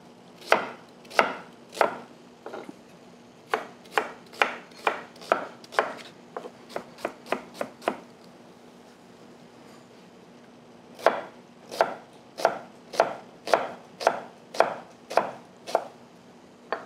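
Onions being chopped with a sharp knife on a cutting board, a long run of crisp, close, evenly spaced taps with a pause in the middle before the chopping resumes.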